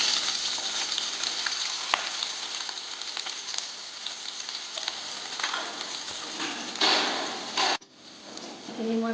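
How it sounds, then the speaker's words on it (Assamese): Sliced onions sizzle in hot oil in a pan for marinating biryani meat, a steady broadband crackle holding for most of the span before a brief clatter and a quieter tail. "গৰম হৈছে, মই এতিয়া পিঁয়াজখিনি দি দিলোঁ।"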